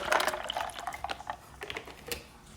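Almond milk poured into a blender jar over a couple of ice cubes for a smoothie, a brief splashing trickle with light clinks, close and fairly quiet, no talk.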